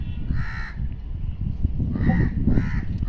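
A crow caws loudly three times at close range, with a short gap after the first call and a quick pair at the end.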